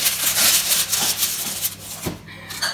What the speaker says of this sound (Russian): Отрываем кусочек фольги.